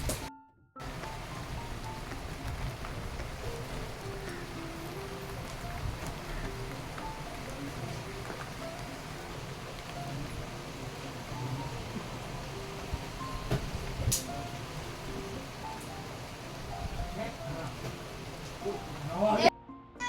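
Soft, continuous patter of rain falling, fairly faint and even, with a sharp tap standing out near the middle.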